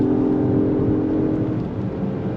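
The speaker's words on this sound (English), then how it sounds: "Let's go on throttle." A 2025 Acura MDX Type S accelerating on throttle, heard from inside as a steady, muffled engine hum with a faint whirring drone and road noise, fairly loud and constant.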